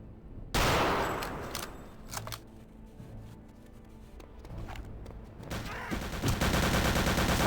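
Rifle gunfire from the video game Return to Castle Wolfenstein: a loud sharp shot opens, followed by scattered cracks and busy combat noise, then a dense rapid burst of fire near the end. Nobody speaks.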